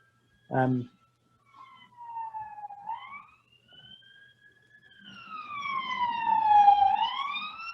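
A police siren wails, rising and falling in long sweeps, growing louder toward the end after a brief voice at the start.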